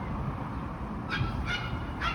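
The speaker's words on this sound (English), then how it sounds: "I can hear a puppy yapping from here" A puppy yaps from inside an apartment building along a city street, three short, high, distant yips heard faintly over low street hum.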